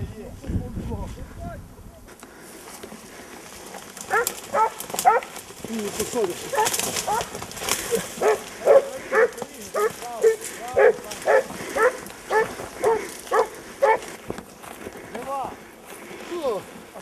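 A dog outdoors on a nature outing barks in a quick run of repeated yips and barks, loud and close, with people talking over it at first.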